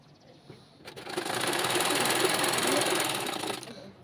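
A sewing machine runs in one steady burst of about two and a half seconds, loud and close, stitching the crotch seam of a baby girl's belted jumpsuit.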